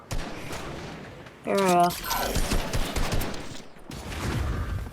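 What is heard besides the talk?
shotgun firing in a video game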